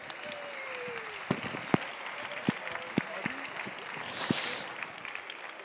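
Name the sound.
audience applause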